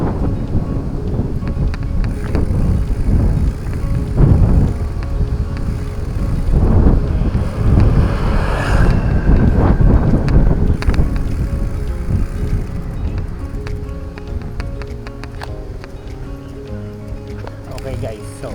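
Wind rushing past a bicycle rider descending a steep road in hot weather, loud buffeting gusts swelling and easing against the microphone, with road and tyre rumble underneath.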